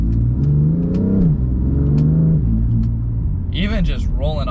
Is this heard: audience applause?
no